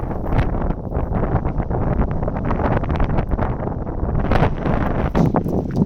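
Strong mountain wind buffets the microphone with continuous loud roaring and gusty rumbling, no voices.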